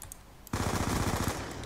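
Rapid automatic weapon fire in a first-person shooter video game bursts in suddenly after a brief quiet moment, a fast, loud, even rattle of shots lasting about a second.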